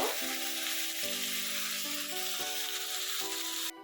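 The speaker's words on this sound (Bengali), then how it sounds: "পেঁয়াজের সঙ্গে এটা ভালো করে পাঁচ মিনিট নাড়াচাড়া করে নেব" Mutton stirred with onions in a frying pan gives a steady, loud sizzle throughout, with a faint tonal hum layered underneath and no talking.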